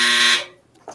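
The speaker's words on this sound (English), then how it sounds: "that's a loud buzzer" A laundry dryer's end-of-cycle buzzer blares loud and close in one steady, harsh electronic tone for about a third of a second, then cuts off into near silence.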